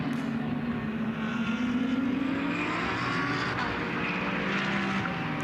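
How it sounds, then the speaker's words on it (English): Ferrari GT race car passing on track during a GT Australia race at The Bend, a distant, fairly faint engine drone with a slowly shifting pitch as the car goes by. "There is the Ferrari."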